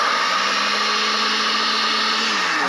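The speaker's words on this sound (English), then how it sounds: "We're going to put it into the blender." A blender whirs steadily as it purees raspberries into whipped topping, a loud continuous motor roar with a sustained even hum throughout and no talking.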